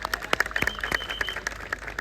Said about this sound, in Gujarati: એમને પણ જોરદાર તાળીઓથી આપણે વધાવી લઈએ